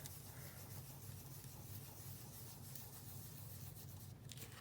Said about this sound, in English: I'm going to burnish it in there again with my finger